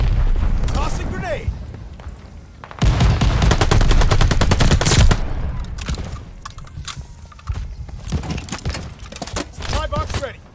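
Dense Call of Duty: Vanguard firefight with rapid gunfire bursts, heavy booms and a loud concussive blast mid-scene, battle chatter and game voices running underneath.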